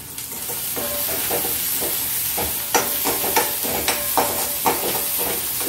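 Homemade masala sizzling in hot oil with jackfruit pieces, a steady frying hiss broken by a series of sharp stirring scrapes and clacks of a spoon in the pan, close up with no talking.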